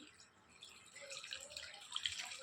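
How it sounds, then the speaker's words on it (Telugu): Water is poured over three bunches of finely chopped punarnava leaves, making a soft, close trickle and splash that stays quiet throughout and is heard alone. "తర్వాత వాటర్ వేసుకోవాలి"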